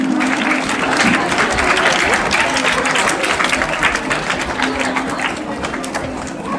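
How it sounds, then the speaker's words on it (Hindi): Schoolchildren applaud at a Children's Day gathering, loud continuous clapping that holds for several seconds and then begins to thin, with some background voices mixed in. "तालियां रुक गई, अभी तो 9th के बच्चे रह गए भाई।"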